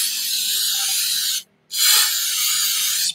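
Loud, close hiss of spray blasting through a 2001 Jaguar XK8 intake manifold in a garage, two long sustained bursts separated by a brief pause.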